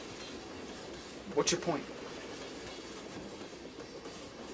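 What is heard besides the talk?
train moving on rails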